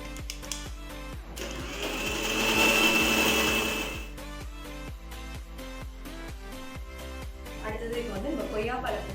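A blender whirs in a short loud burst, blending ice cubes for a milkshake with vanilla ice cream. It rises and falls over a few seconds while a person talks over it and other kitchen sounds follow.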